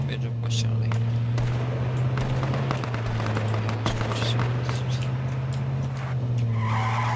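A car in the video game H1Z1 King of the Kill drives with a steady engine drone, punctuated by tire skids and scrapes, while players talk over it.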